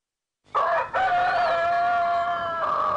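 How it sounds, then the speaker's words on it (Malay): A rooster lets out one loud, close cock-a-doodle-doo, a sharp rising start followed by a long sustained crow that holds steady to the end. "Saya berkokok pada setiap pagi"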